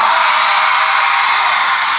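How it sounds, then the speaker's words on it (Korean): A large outdoor concert crowd at a mall plaza screams and cheers in a continuous high-pitched roar, loud and steady throughout with no distinct voices standing out. "저희힘내게함성한번만질러주세요"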